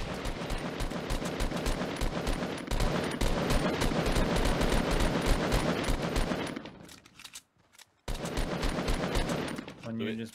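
Sustained automatic gunfire in Fortnite, loud and dense, with continuous rapid shots for several seconds, a brief drop to near silence, then firing resuming, with faint talk in the background.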